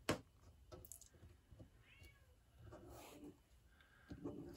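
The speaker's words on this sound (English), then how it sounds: "My kittens have discovered that Mom has disappeared into the office, and they're not happy." Kittens indoors, left alone outside an office, meow unhappily. Several faint, scattered meows and cries come at a distance over a quiet room.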